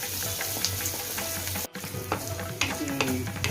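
Onions fry in oil for an Andhra-style sambar tempering, crackling and sizzling steadily up close with scraping stir strokes and a brief dropout midway.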